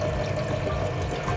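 Water pours steadily into a pan for rasmalai sugar syrup in a home kitchen, a close, continuous liquid rush without pause.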